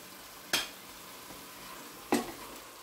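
Onions fry in a pan over medium heat for fish salan under a soft, steady sizzle, broken by two sharp spoon clinks against the pan.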